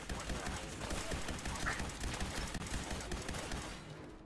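Rapid gunfire from a Fallout 4 firefight rattles along almost continuously, with dense repeated shots at a steady close level and little pause between bursts.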